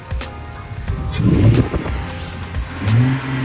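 A Cadillac CTS-V with a freshly installed T56 manual transmission fires up, its engine catching and then revving in two rising swells, close and fairly loud.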